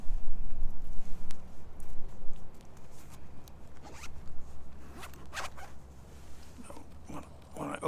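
A zipper on a Maxpedition first aid kit pouch is pulled open, giving a few short rasping bursts that build toward the end over a low background rumble.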